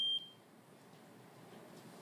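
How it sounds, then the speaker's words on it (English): A single short, loud, high electronic beep like a smoke alarm chirp sounds at the very start, followed by a quiet room hiss. "to get the beeping to stop"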